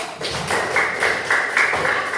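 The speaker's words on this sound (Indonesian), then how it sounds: "Tepuk tangan dulu." A school class claps hands in a short rhythmic pattern, repeated bright claps in a steady beat, fairly close and lively.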